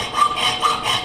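A hacksaw cuts with quick, even back-and-forth strokes, about three strokes in a short burst, close and fairly loud with no voices.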